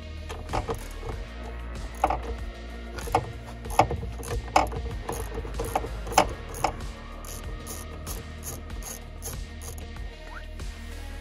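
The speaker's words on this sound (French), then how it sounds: "À l'aide de la clé de 10, on va dévisser la cosse de la batterie." A 10 mm wrench loosens the battery terminal clamp on a BMW, giving a series of close metallic clicks and ratcheting taps at an irregular pace over a low steady background hum.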